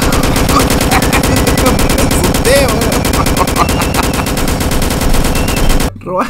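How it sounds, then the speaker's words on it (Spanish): Rapid bursts of gunfire from a Dusty Trip video game, loud and dense with repeated shots and machine-gun style volleys throughout, ending in an abrupt cut to near silence. "Tengo miedo de que me siga disparando, ¿no?"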